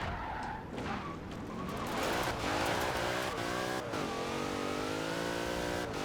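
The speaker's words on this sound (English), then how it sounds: "Well, sorry, I'm gonna drift it like this." A Dodge Durango rally build drifting in Forza Horizon 4, its engine revving hard with rising, sliding pitch and tires squealing, loud and continuous.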